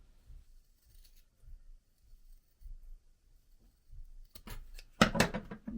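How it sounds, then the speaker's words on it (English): Scissors cutting through leather to size a journal cover, a few faint soft snips early on, then a louder close burst of crisp cutting toward the end. "let me cut down my leather because I need to cut this side off"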